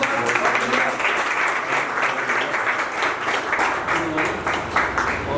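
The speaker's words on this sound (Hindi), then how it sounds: "भाई तालियां, जोरदार तालियों के साथ।" A crowd at a residents' association birthday celebration in India applauds loudly and steadily, dense close clapping sustained throughout with a few voices mixed in beneath it.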